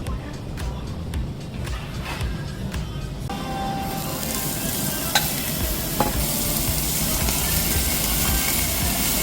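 Meat sizzles steadily over a charcoal grill at an all-you-can-eat Korean barbecue restaurant, a loud, continuous frying hiss that swells partway through, with restaurant clatter and occasional taps.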